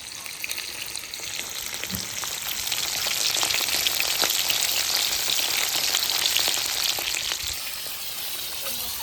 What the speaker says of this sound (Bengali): অল্প অল্প মাছগুলো অল্প অল্প কড়াই করে দিয়ে সমস্ত মাছগুলো ভেজে নেবো